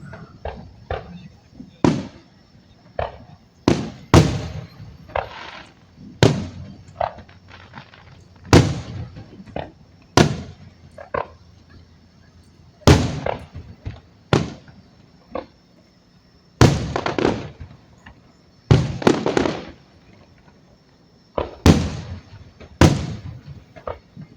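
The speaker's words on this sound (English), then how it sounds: "During the crescendo, they'll be shooting up several shells per second." Fourth of July fireworks in Pflugerville boom and crackle in an irregular series of sharp bursts, some distant and some louder, with people talking in between.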